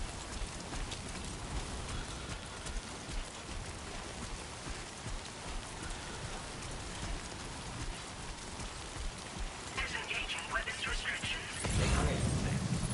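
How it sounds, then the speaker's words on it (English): Steady timefall rain pours across a Death Stranding 2 game scene, a constant dense patter with a brief louder burst near the end, while someone talks over it. "Is it raining already?"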